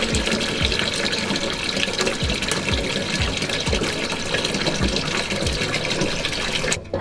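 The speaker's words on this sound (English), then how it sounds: "fill up a pot with water" Tap water runs steadily into a pot for turkey brine, a continuous gushing fill with faint rhythmic low knocks, close and fairly loud, ending abruptly near the end.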